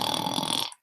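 A voice imitating a bear snoring, one short rough rasping snore, close and loud, ending abruptly.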